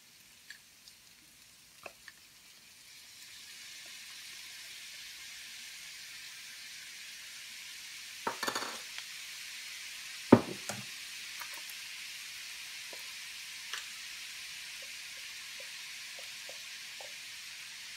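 Soy sauce is poured into a hot frying pan and starts a steady hiss and sizzle that fills the background, with a few sharp clinks and scrapes of stirring standing out near the mic and no talking.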